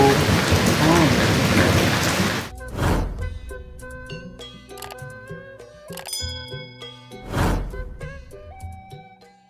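Steady afternoon rain hisses loudly at first, then rolls of thunder rumble twice amid lighter dripping, with scattered tones of game or background music and no speech.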